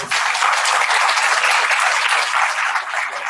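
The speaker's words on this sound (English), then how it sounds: "Let's give them a round of applause." Steady, full applause from a large audience at a graduate college orientation event, sustained dense clapping throughout with no voices rising above it.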